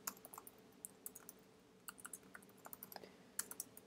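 Rapid, uneven clicking of a computer keyboard, quiet and close, with bursts of keystrokes broken by a short pause midway and no talking.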